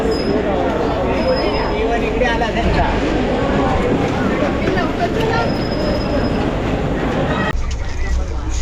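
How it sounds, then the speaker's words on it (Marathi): A Mangaluru Express night train departs, rumbling steadily with clattering wheels and occasional high squeals, loud and close, as if heard from inside a carriage. "फायनली गाडी निघाली."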